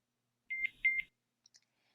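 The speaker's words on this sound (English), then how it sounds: "You'll hear the number of beeps that corresponds to the program selected." A Nano CIC hearing aid emits two short, clear electronic beeps close up, marking the selected program, followed by a faint click in otherwise silent surroundings.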